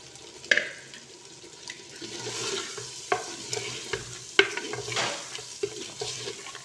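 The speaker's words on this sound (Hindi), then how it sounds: "इस चिकन को थोड़ा थोड़ा पानी के सिप डालते हुए भूनते जाएंगे" Chicken pieces frying in a roasted spiced masala, stirred with a utensil, giving a steady sizzle broken by repeated scraping clatters and sharper knocks against the pot, with no one talking.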